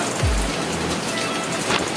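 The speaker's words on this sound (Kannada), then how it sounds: "ಒಳ್ಳೆ ವೈಬ್ಸ್ ಕೊಡುತ್ತೆ ಈ ಥರ ಮಳೆ ಬರ್ತಾ ಇದೆ." Sudden rain pours down in a steady, loud wash of drops on surfaces, with a low rumble briefly underneath.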